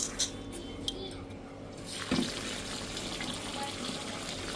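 Water poured into a cooking pot of lentils in a home kitchen, a faint steady running stream with a few small splashes and drips, low background room sound.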